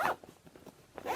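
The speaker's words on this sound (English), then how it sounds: "Zip it up." A zipper is drawn closed on an Attenti Overnighter bag: a quick rasping pull, a softer ticking run of teeth, then a final brisk zip, close and alone.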